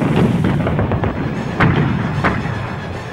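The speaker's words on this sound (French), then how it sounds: "Au Nouvel An 1953, les canons de Giap bombardent les Français." Artillery cannons bombarding French positions at Dien Bien Phu in 1953, a dense, continuous rumble of booms and thuds with a few sharper blasts standing out, loud and sustained.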